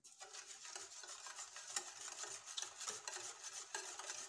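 Yogurt and sugar being whisked in a bowl, a soft, steady scraping and stirring with fairly even strokes, quiet and close, without any talking.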